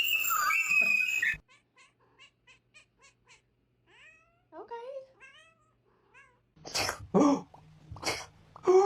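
A cat sneezes several times in a row, small sharp bursts close by with quiet gaps between them, followed by meows and a person talking.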